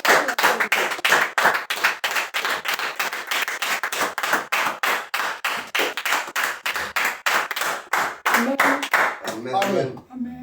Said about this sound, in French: acclamer très fort le Seigneur.